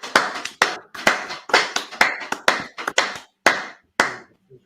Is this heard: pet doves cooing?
no